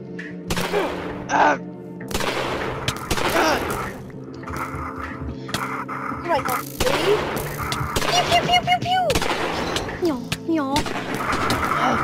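Video game gunfire in a Yandere High School roleplay, rapid bursts of shots scattered across the clip over game effects, with people talking in between.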